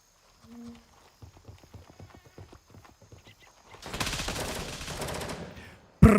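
Heavy SIG rifle fire in the Gray Zone Warfare shooter game: a dense, booming burst of shots rolls out like thunder across the second half, after scattered quieter taps and thumps, with one sharp loud crack at the very end.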